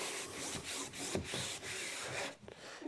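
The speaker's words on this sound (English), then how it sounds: "But I'll wipe it down again." Rhythmic rubbing strokes wiping sanding dust off a sanded wooden surface, soft and close, repeating back and forth for a few seconds before fading out.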